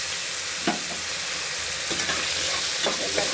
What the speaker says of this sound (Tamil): எல்லாத்தையும் நல்லா வதக்கணும்.